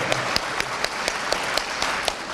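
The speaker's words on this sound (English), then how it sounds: "Give yourselves a round of applause" A comic con panel audience claps in a large hall, steady crowd applause with a few sharper individual claps standing out in a regular rhythm, loud and sustained throughout.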